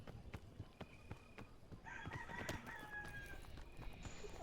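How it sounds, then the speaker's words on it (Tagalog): A rooster crows in the video game PEAK, a faint cock-a-doodle-doo with a few clucks over low background noise and scattered clicks. "May manok."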